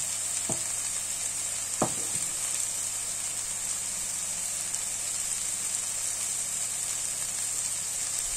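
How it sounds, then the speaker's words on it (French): Pork cheek simmering gently in a pan, a steady hiss of low bubbling with two brief knocks early on, continuous and fairly quiet. "On laisse mijoter."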